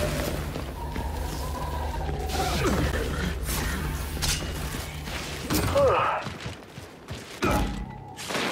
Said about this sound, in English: Weapons locker deployed!